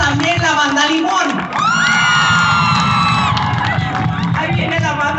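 A large crowd shouts, whoops and cheers loudly at a live event in Ciudad Juárez, with sustained voices and a brief high-pitched sound over dense, continuous noise.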